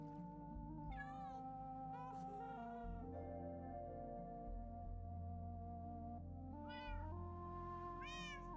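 A cat named Katana meows repeatedly over a steady droning tonal background, with several drawn-out, rising and falling cries spaced across the stretch, close and clear.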